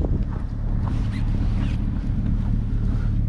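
A BMW E65 745i with a valve seal problem idles at a steady, loud, deep rumble that stays constant throughout, with no voices.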